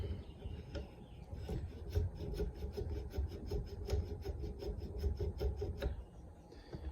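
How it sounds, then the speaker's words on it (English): An AR-15 muzzle device is spun by hand onto the threaded barrel, giving a steady close-up metallic rasping and rubbing with a rapid repetitive texture throughout, with no talking. "take your new muzzle device, and you're just going to spin it on there"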